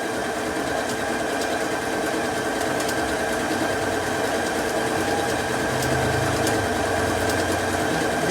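A 3160PG Anniversary Edition sewing machine stitches continuously, a steady mechanical whir and fine rapid ticking with a low motor hum underneath.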